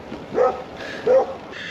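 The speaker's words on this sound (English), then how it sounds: "there's bloody dogs everywhere" Dogs barking outdoors along a steep hill road while cycling into Belgium, two short bark bursts a little way off, separated by a pause, over steady wind and road noise.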